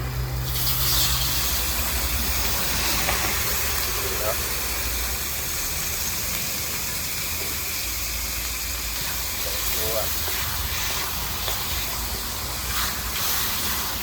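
Steady sizzling hiss of chicken with giblets stir-frying in a hot pan, broad and continuous, with faint clatter and a low hum underneath.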